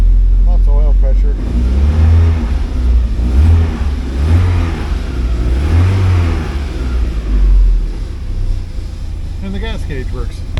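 A 1979 Porsche 924 engine runs steadily nearby with a low, throbbing rumble while someone talks over it throughout.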